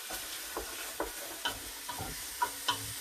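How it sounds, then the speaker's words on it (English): Onion and carrot sautéing in a pan for a sausage and bean stew, a steady soft sizzle broken by several sharp scrapes and clacks of a spoon stirring, close up with no talking. "we're sauteing our onion and our carrot"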